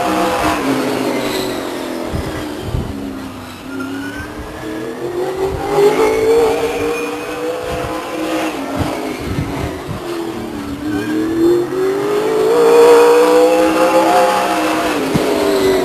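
A late model stock car laps Stockton 99 Speedway, its engine rising and falling as it passes through the turns, loud and continuous with changing pitch, alone without talk.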